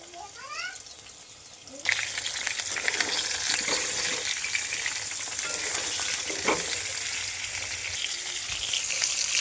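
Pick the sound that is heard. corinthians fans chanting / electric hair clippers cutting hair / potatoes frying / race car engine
potatoes frying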